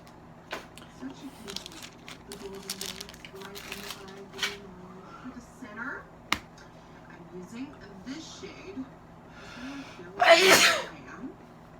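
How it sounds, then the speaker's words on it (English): Talk runs through most of the clip, then a single loud, sharp sneeze bursts out near the end, close by. "I sneeze a lot."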